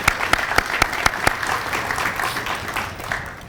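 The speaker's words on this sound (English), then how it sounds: "Let's give Frontier a round of applause for that investment in Cleveland." Crowd applause for Frontier at a Cleveland airport announcement event, starting with several sharp, regular claps up close that blend into a steady wash of clapping before tapering off.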